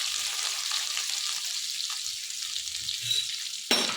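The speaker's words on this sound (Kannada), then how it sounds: "ಈಗ ಇದನ್ನು ಫ್ರೈ ಮಾಡ್ಕೊಳ್ಳೋಣ." Garlic, green chilies and curry leaves frying in oil, a continuous crackling sizzle with a brief louder clatter near the end, no voices.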